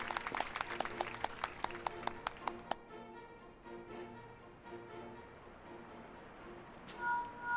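Video game applause in Final Fantasy XIV: a brief run of evenly spaced claps, about nine in quick succession, followed by a soft musical tone fading out and a faint chime.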